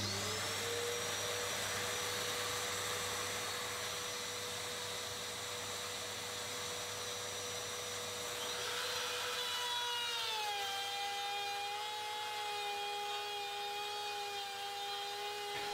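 A Makita router fitted with its original dust collection shroud runs with a shop vacuum attached, a loud continuous whine and roar whose pitch drops partway through as the bit engages, with no one speaking.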